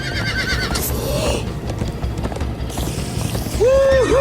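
A horse neighs and whinnies amid galloping hooves and game-like sound effects, loud and busy, with another whinny near the end.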